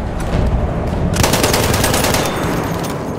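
Battlefield 1 machine gun fire, a loud dense stream of rapid shots that grows heavier partway through and continues without pause amid battlefield noise.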